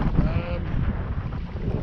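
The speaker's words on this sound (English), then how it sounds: "I'd like to see that wind come down a bit." Blustery wind rushes past a sailboat sitting aground as darkness falls, a constant loud roar with some water noise beneath it and a brief faint whistle near the start.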